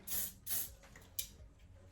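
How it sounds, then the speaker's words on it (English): Flexible hairspray goes onto sculpted hair in two quick, soft spray bursts, then a third brief puff. The hissing is faint and close in a quiet room. "And some flexible hairspray."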